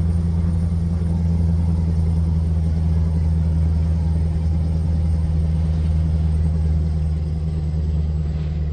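Scania V8 truck engine in Euro Truck Simulator 2 with ProMods 2.0 and a winter mod, a steady low rumbling drone held at an even, fairly loud level throughout with no break.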